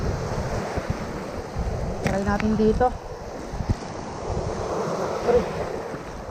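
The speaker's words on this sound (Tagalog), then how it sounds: "Tsaka malakas yung alon." Strong ocean surf pounds along the shore with heavy wind buffeting the microphone, and someone speaks briefly over the roaring, rolling waves.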